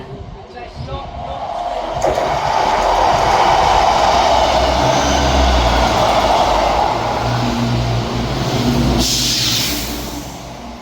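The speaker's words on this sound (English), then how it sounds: "ScotRail service from Edinburgh Waverley to Perth" A ScotRail train on the Edinburgh Waverley to Perth service passes at North Queensferry with a loud, sustained rumble and a wheel-on-rail roar that builds and then fades. A person talks over it near the start.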